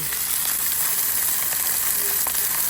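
Steady, close sizzling and crackling of chorizo frying in a hot pan, a continuous hiss with small pops and no talking.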